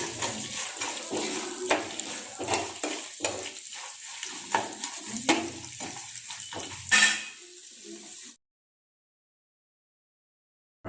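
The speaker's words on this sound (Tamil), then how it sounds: "பச்சை மிளகாலாம் நம்மளுக்கு வதங்கி வரட்டுங்க" Green chillies sautéing in a pan with asafoetida and turmeric for lemon rice, with a soft steady sizzle broken by repeated scraping strokes of a spoon against the pan, then abrupt silence.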